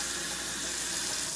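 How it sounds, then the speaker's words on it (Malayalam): Water runs from a kitchen tap into a sink in a steady, unbroken splashing stream, close and alone. "ഇനി പൈപ്പ് നിർത്തിക്കും"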